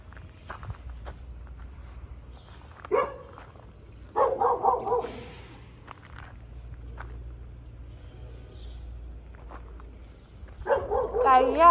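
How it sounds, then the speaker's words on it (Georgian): Dogs bark outdoors in a home yard in a few loud, short bursts separated by quieter stretches, while people talk nearby. "ახლა მთელი ძაღლებია აქ"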